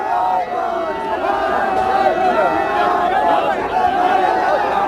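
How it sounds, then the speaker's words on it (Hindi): A crowd of supporters celebrates an election victory in Sujangarh, Churu, with loud continuous cheering and shouted slogans from many voices close by, chatter mixed in. "पूसाराम गोदारा के समर्थकों की भीड़ यहाँ जुट चुकी है, मालाएं पहनाकर अभिनंदन कर रहे हैं"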